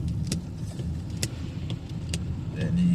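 A taxi drives along a rainy road with a steady low engine rumble and tire noise, faint clicks and rattles over the top, heard from close inside or beside the vehicle.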